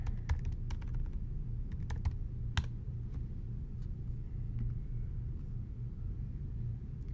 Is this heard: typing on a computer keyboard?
yes